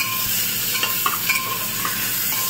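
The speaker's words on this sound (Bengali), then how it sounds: "তো পেঁয়াজটা হালকা ভাজা ভাজা হয়ে গেছে। তারপরে এখানে দুটো মিডিয়াম সাইজের টমেটো দিয়ে দিলাম।" Onions and tomatoes fry in a pan and are stirred, giving a steady close sizzle with soft scraping strokes and light clinks. No one speaks.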